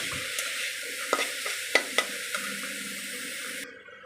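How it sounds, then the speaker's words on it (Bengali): Taro stalk and chickpeas fry in a hot pan, giving a steady sizzle broken by sharp scraping clicks of a spoon stirring. The sound is close and moderately loud, with no talk. "দেখো ছোলা কচু আর ছোলা একদম পুরো ভাজা ভাজা হয়ে গেছে সুন্দর করে।"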